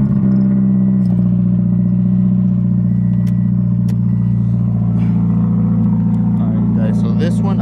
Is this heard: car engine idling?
yes